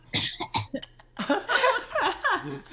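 A few short sharp coughs come first, then a burst of laughter-like cough and throat sounds, close to the microphone.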